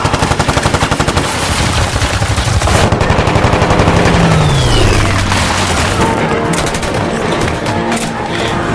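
Rapid machine-gun fire rattles loudly in the war film The Eight Hundred as a diving Japanese fighter plane strafes Chinese soldiers on a warehouse rooftop, followed by a swooping engine roar and booming impacts.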